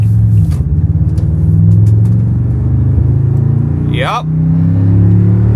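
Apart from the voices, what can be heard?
Toyota Tundra TRD Pro truck accelerating in tow haul mode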